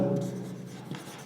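Chalk or marker scratches across a board during a biology lesson, a short close scraping stroke with a slight tail, no speech over it.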